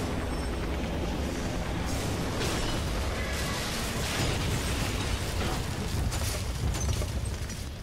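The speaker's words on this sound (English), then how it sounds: "explosion." An explosion in the video game Beyond: Two Souls gives a loud, sustained rumbling roar with scattered crackling debris throughout.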